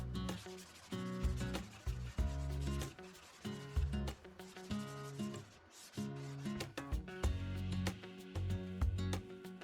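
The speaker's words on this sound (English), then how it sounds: "Giving the edges a slight sand just to get rid of the sharpness." Sandpaper rubs along the edges of plywood desk parts in short, repeated strokes, giving a close, dry scratching rhythm that starts and stops with brief pauses between passes.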